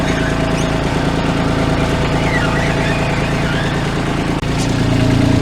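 A tractor engine idles steadily close by, a constant low mechanical hum with a clear rhythmic throb that runs unbroken from start to finish.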